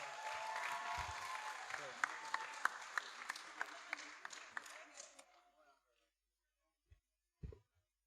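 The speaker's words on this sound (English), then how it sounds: "Ladies and gentlemen, give them a round of applause." Audience applause at a preparatory school graduation ceremony, a dense crowd clapping that holds steady for about five seconds, then tapers off and dies to silence, leaving only a couple of faint thumps afterward.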